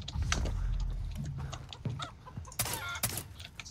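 Chickens cluck in the Far Cry 3 video game, with a run of short, close clucks and squawks over a low rumbling game background, then a couple of sharper bursts near the end.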